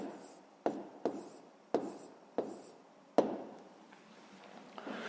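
Numbers are written by hand during a fifth-grade math lesson: about five crisp, evenly spaced strokes tap and scratch against a quiet background, followed by softer scribbling. No one speaks.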